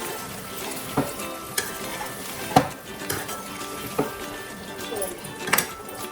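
Mutton keema stirred slowly in a pan on the stove, a low sizzle under repeated scraping and clinking of a metal spoon against the pan in uneven strokes, with occasional nearby speech.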